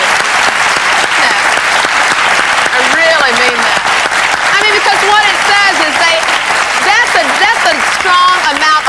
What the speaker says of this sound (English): I really want to give you three men a major mm-hmm. yeah. round of applause for your courage to be there.